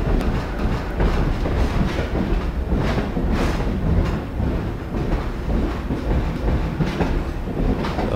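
Continuous rumble of a train in motion in the video game Half-Life 2, with rhythmic clacking of wheels over the rails and a steady heavy drone throughout.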